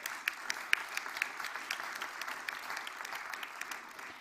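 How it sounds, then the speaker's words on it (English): Audience applause at a climate summit on the just transition from fossil fuels, a moderate wash of many hands clapping with a few sharper individual claps standing out early, steady for several seconds and heard from a middle distance without talk. "I'd like a round of applause for Bibi right now, please."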